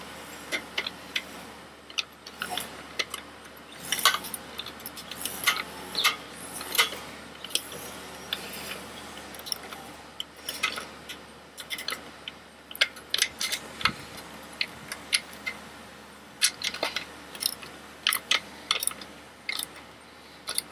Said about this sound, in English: I just need to tighten these bolts back up.